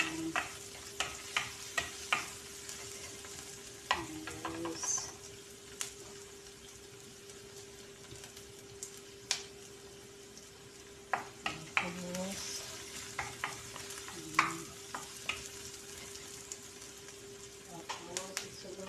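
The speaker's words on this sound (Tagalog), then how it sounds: "Ginisa natin ang sibuyas guys, tapos isunod natin yung yung" Onion and then garlic sautéing in a pan for a shrimp dish, with a steady soft sizzle broken by frequent clinks and scrapes of stirring, close and moderately quiet, and a voice talking now and then.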